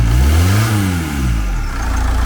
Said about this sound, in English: Alright, okay, so everything's connected. It's running.